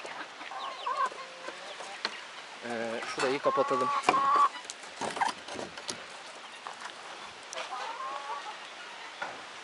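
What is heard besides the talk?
young white guinea fowl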